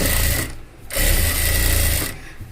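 A sewing machine stitches a pant hem in bursts, a fast loud mechanical whir that breaks off once briefly and then runs again, close up and alone.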